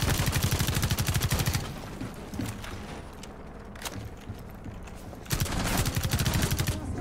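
Bursts of rapid automatic gunfire in Rainbow Six Siege, loud and close, with a long firing stretch, a quieter pause holding scattered single shots, then another sustained burst.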